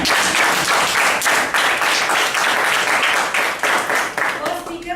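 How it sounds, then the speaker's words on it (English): An audience at a Toastmasters evaluation session gives a loud round of applause for the first speaker, dense clapping that rises and falls over several seconds before tapering at the end. "we can have a round of applause"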